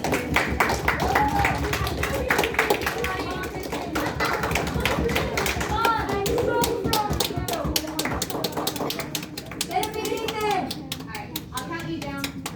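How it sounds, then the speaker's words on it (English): A classroom of fifth graders gives a round of applause, dense close clapping running under children's chatter and excited voices throughout. "Give a round of applause to Christian."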